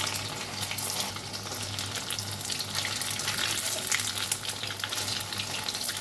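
Chhana koftas fry lightly in oil in a pan with a soft, steady sizzle that crackles on and off throughout, quiet and close.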